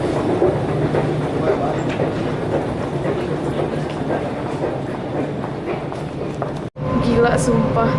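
Steady rumble and rhythmic clatter of a moving train heard from inside a carriage, continuous throughout, with a brief dropout near the end.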